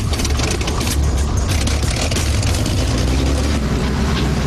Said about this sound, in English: The engine starts taxiing